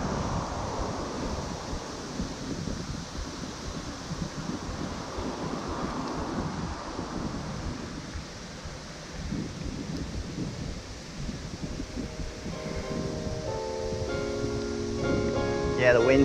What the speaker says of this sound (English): Yeah, the wind's just picked up right now.